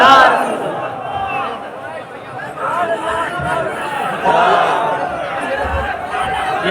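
A large crowd at a religious gathering roars back in unison to slogan chants, a loud, dense wall of voices with overlapping shouts and babble sustained throughout.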